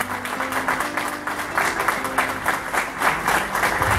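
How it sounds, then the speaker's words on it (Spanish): Applause for the newlyweds at a wedding, a lively burst of many hands clapping close by with a rhythmic, slightly uneven pulse, while faint music or voices hum underneath. "Miren qué lindo para hacer un aplauso en este momento"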